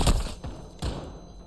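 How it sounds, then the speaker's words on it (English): Stun grenades go off during a Modern Warfare 2 firefight, giving two heavy muffled thuds about a second apart, each followed by a brief rumbling tail. "those flashbangs are starting to annoy me. There's not flashbangs, there's stun grenades."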